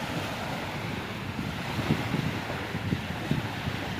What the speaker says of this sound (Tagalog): kunting ulan lang, ulan tapos hangin, hindi naman siya masyado lumakas